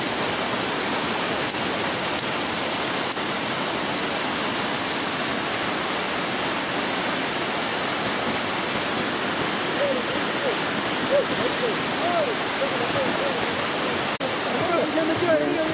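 Water rushes continuously through an irrigation canal intake on a rural Andean acequia during a cleaning event, a steady, full roar of flowing water with faint background activity and no clear speech.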